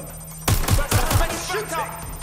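Gunfire in the video game Watch Dogs Legion, a rapid burst of four or five close, punchy shots in quick succession, followed by fading reverberant game noise.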